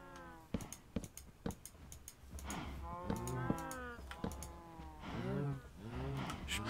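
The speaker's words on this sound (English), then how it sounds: "Sorry if you've been subjected to just mooing for the last like 10 minutes" Minecraft cows mooing in a game, several repeated moos with clicking taps between them, close and fairly loud in an otherwise quiet setting.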